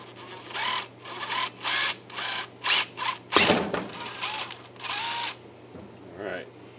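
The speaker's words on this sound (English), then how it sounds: "we've got half of our holes drilled. We'll flip it over. We'll do the rest of them." Power drill boring holes into a rifle forestock, running in a series of short, loud bursts of whirring with brief pauses between them, then a clattering handling noise and a fainter final burst.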